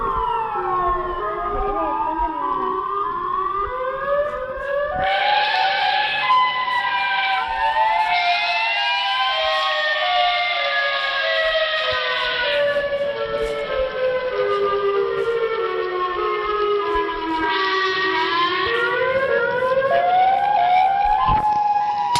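Siren Head's siren wailing in a horror video game, loud and continuous, with long rising and falling tones and layered howling bursts repeating over about twenty seconds, no talk.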